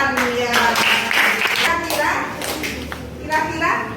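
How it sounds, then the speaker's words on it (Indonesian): Classroom children clap for a classmate, scattered uneven hand claps mixed with lively kids' chatter and a teacher's voice throughout. "Tepuk tangan untuk Evan ya."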